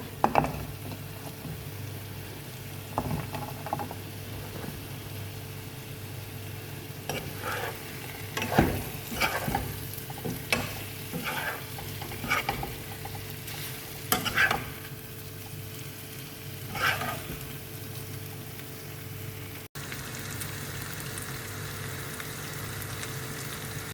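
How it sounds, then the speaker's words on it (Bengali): Chicken frying in a pan with tikka spices, stirred now and then: a steady close sizzle running throughout, with bursts of scraping and clattering stir strokes in the middle. "চিকেনটা একবার ভাজা ভাজা হয়েছে"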